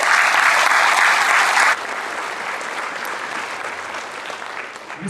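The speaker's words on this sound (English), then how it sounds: "Let's have a round of applause for Mr." Audience applause at a high school senior awards ceremony, a loud, even wash of clapping that drops in level partway through and carries on more softly.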